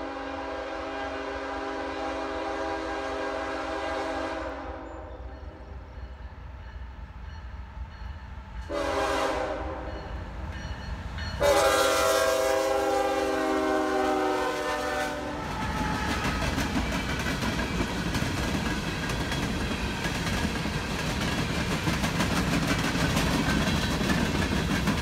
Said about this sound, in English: Next, after having trip optimizer issues, NS-507 comes down doing 40 miles an hour.